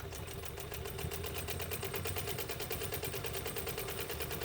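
A Westinghouse model UHB sewing machine stitches in reverse with a short stitch length, its needle clattering in a rapid, steady mechanical rhythm that holds at a constant loud level throughout, close up.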